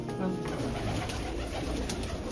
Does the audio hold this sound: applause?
no